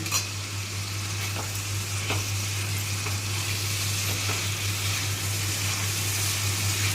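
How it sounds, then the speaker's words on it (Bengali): Spices frying with soybean and boiled potato in a pan, a steady, fairly quiet sizzling hiss with occasional faint stirring clicks over a low constant hum. "কষিয়ে নেবো ভালো করে"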